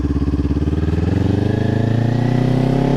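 Motorcycle engine revving steadily and loud and close, pitch climbing as the rider eases on the throttle and releases the clutch through a gear change, alone without voices.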